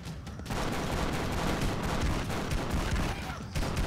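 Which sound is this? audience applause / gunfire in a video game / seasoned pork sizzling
gunfire in a video game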